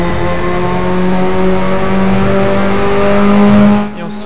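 Race car in the RaceRoom racing game on a track, its engine sustaining a loud, close, strained high-pitched drone for about four seconds before cutting back suddenly at the end.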